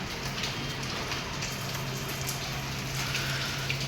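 Steady Mumbai rain falls throughout, a dense even hiss of drops hitting surfaces, with a low constant hum underneath.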